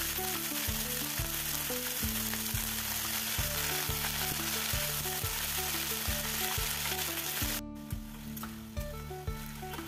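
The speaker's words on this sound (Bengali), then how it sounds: "এরপরে আমি দিয়ে দিলাম কড়াইতে সরিষার তেল আর দিয়ে দিলাম 1 চামচ কালো জিরে আর সর্ষের শাকটা আমি কুচিয়ে নিয়েছি সেই শাকটা দিয়ে দিলাম।" Chopped mustard greens with black cumin sizzle steadily in hot mustard oil in a wok, a dense close crackling hiss with regular stirring clatter that drops slightly near the end.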